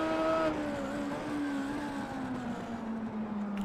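A classic Indycar race car in the iRacing video game drones loudly with a steady engine tone whose pitch slowly falls as the car decelerates, heard alone with no talking.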